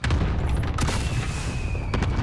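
Dense rumbling barrage of explosions from an allied cluster strike in Call of Duty, a continuous low roar with scattered sharper cracks and blasts, loud and sustained.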